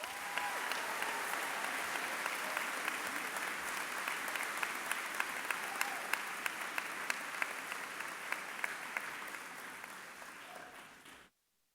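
Sustained applause from the audience at the Algonquin Regional High School class of 2018 graduation ceremony after a student speech, a steady dense roar of many hands holding level for about eleven seconds before cutting off abruptly.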